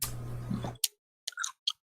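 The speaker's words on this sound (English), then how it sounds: "Much more lip smacking than crunch," Someone chewing older, less crisp fruit: a few wet lip smacks and soft mouth clicks after a brief burst of noise, close to the microphone in an otherwise quiet room.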